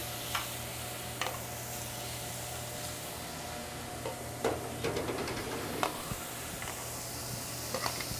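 Steak tips searing in a thin layer of oil and butter at a restaurant grill in Boston, a steady quiet sizzle under a low kitchen hum, with scattered clicks and scrapes of a utensil against the pan.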